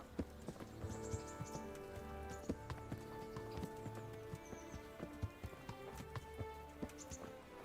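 Horse hooves clip-clopping in Kingdom Come: Deliverance, a steady walking rhythm of hoof strikes over a low ambient bed with faint distant birdlike chirps, no talk.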